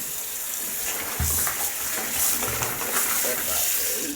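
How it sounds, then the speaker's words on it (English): Cloth books and soft baby toys go into a basin of soapy water, giving close splashing and sloshing with a few soft plops as the items are pushed under. "soapy water, I am also adding the cloth books and the soft toys"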